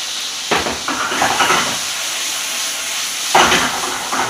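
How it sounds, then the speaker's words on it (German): Eggplant pieces sizzling in a pan of hot oil with garlic, a continuous bright hiss with bursts of crackle as the pieces go in and are stirred. "Und lassen die Auberginen kurz anbraten."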